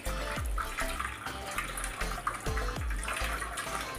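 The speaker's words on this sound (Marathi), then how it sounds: "तर आता आपण ह्याच्यामध्ये थंड पाणी टाकून घेणार आहोत" Cold water running steadily into a pan of boiled potatoes set in a strainer, a continuous close splashing pour with a few louder gurgles, no voices.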